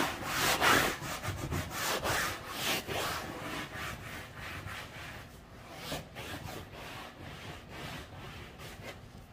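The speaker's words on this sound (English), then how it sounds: "I usually grab my brush here," A hand brush scrubs fabric furniture upholstery during a cleaning job, giving steady back-and-forth rubbing strokes that are close and moderately quiet, fading a little toward the end, with no talking.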